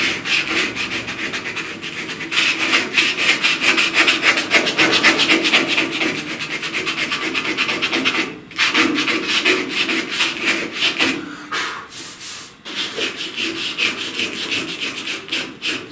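Body filler on a truck cab corner being hand-sanded with 80 grit paper: steady, continuous scratchy rubbing strokes, close and loud, with a couple of brief pauses.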